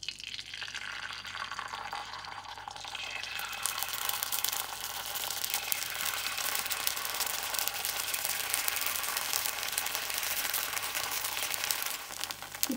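Kuzhipaniyaram batter poured into hot oil in a paniyaram pan, a dense steady sizzle building after the first few seconds and holding at a constant close level, with no voices.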